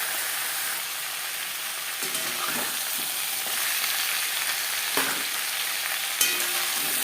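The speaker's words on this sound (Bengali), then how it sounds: "মাছের মাথা ভাজা হয়ে গেছে" Catla fish heads fry in hot oil in a pan, giving a steady, close sizzle with a few sharp clinks and scrapes of stirring and no talking.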